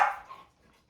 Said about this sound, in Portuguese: Aí a cachorra resolve latir